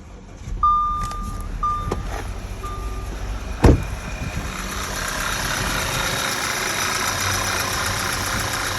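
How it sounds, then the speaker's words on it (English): A 2.0T car engine restarts and settles into a rough idle with its cylinder 3 coil removed. A few high beeps sound at first, then the engine catches with a loud burst and keeps running unevenly close by. "It runs the same exact way without that coil. It's completely missing on cylinder number 3."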